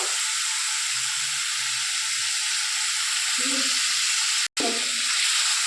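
Onion paste and boiled potatoes fry in hot oil with a steady, loud, close sizzle and hiss, broken by a few soft stirring movements and one brief gap near the end.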